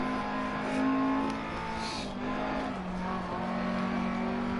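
Upgraded rally car engine in DiRT Rally drones steadily and loudly throughout, with a brief dip and shift in pitch near the middle as the car changes gear on a stage.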